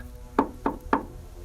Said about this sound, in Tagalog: may narinig ulit na 3 katok